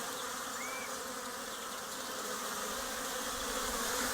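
Honeybees buzz around hives on a sunny spring morning as they bring in their first pollen, a continuous dense droning hum from many bees close by, with one bee passing briefly nearer.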